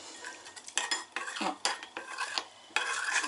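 A spoon stirring a face mask mixture with warm milk in a small bowl, making quick, close clinks and scrapes in uneven bursts.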